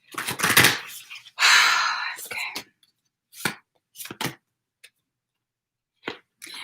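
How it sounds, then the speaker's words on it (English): A final deck of cards is shuffled by hand, giving a few broadband riffling bursts at first, then scattered short card snaps and taps separated by quiet gaps. "Let me just shuffle this."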